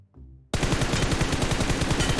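After a brief quiet moment, a long rapid burst of automatic gunfire from a shooting video game erupts loud and close, its shots pounding in a fast, steady rhythm.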